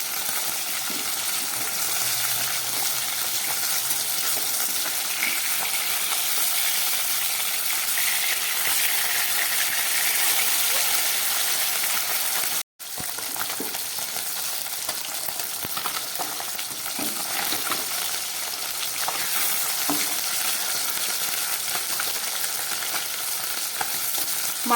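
Bele fish, flipped after one side is browned, fries steadily in hot mustard oil, a dense continuous sizzle that runs close and even for about twenty-five seconds, broken only by one brief dropout near the middle.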